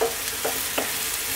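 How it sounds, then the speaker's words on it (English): Chicken chili con carne being stirred in a pan, a steady close sizzling hiss with two or three brief soft scrapes of a spoon, no voices heard. "let's give this a mix"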